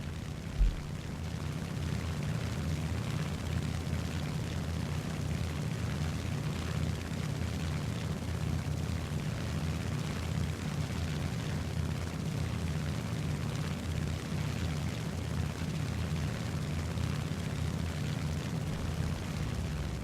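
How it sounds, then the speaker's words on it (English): Steady droning engine of an A6M2 Model 11 Zero fighter in a flight combat game, a continuous low throbbing roar held at even loudness throughout, with no other sounds over it. "So I turn the plane around and prepare to engage."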